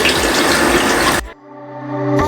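Tap water gushes loudly for about a second while rinsing freshly bleached hair, then cuts off abruptly, leaving a faint hum before a brief burst returns at the end.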